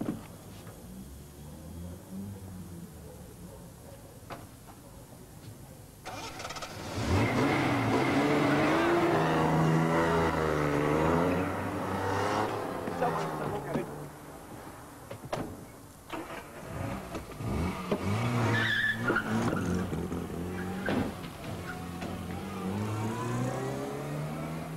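A stolen blue Ford Capri races away under police pursuit, its engine revving hard and surging through repeated acceleration bursts, loud and close, with tyre and body noise over a steady low rumble.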